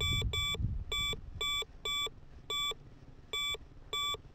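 A metal detector sweeping over a buried target, giving a row of crisp, identical electronic beeps at a fairly regular pace, about nine in all, close and clear, with some low rustling at the start.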